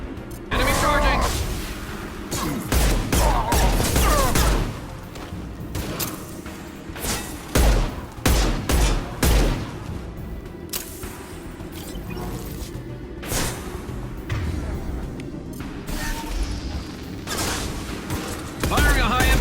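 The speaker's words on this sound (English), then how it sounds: "Firing a high-impact shot!" Gunfire in the video game Mass Effect 2: loud bursts of shots and heavy thuds come in clusters, with character voices talking between and over them.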